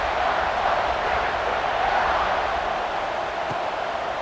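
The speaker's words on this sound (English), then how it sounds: "this crowd is buzzing after that last score" A football stadium crowd at a college game buzzes in a steady, dense roar of many distant voices, with no distinct words or peaks standing out.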